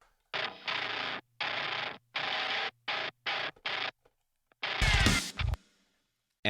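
Heavily distorted bass guitar plays a run of loud, sustained notes separated by short gaps, followed by a brief harsh noise near the end.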